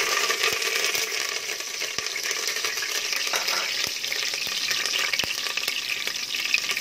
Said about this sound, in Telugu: ఆయిల్ హీట్ అవుతుంది. ఓకే అండి, ఫస్ట్ కరివేపాకు వేసుకుంటున్నాం.